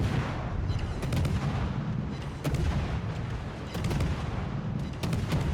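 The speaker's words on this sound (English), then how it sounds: "Just open up on him, again switch to AP, maximum damage on his broadside." Heavy guns on the Swedish destroyer Smaland fire armor-piercing shells in World of Warships, repeated booming volleys in quick succession over a constant rumbling battle background.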